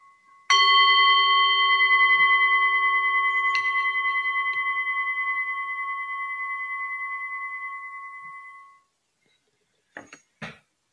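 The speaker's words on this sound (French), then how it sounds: "Pour retourner au deuxième coup de gong" One meditation gong stroke rings out clear and pure, its steady harmonic tone sustaining and slowly fading for about eight seconds, followed by a couple of faint knocks.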